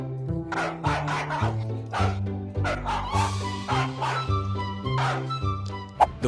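A dog barks and yips repeatedly in quick bursts over a droning, rhythmic musical backing.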